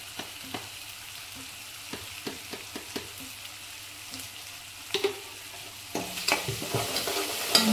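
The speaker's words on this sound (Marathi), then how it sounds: "हळद घेऊया आणि असं परतून घेऊया व्यवस्थित।" Potato filling with turmeric is stirred and sautéed in a pan: irregular scraping and tapping of a spatula over a soft sizzle, close up, growing busier toward the end, with no talking.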